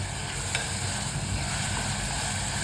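Chillies, garlic, tomato and bay leaf fry in oil in a pan while being stirred, giving a steady, close, even sizzle throughout with a faint scrape near the start.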